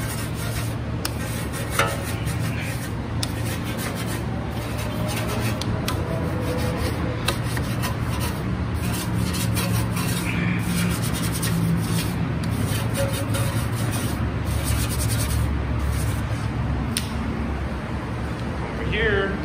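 Stiff wheel brush scrubbing a car wheel during a detailing job, a steady rasping rub that continues throughout at close range, with a constant low hum in the background.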